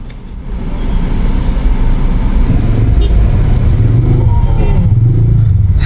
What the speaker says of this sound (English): a bustling city, lots of traffic, hard to get across the streets